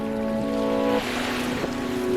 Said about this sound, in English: We're really exposed to this strong wind that's blowing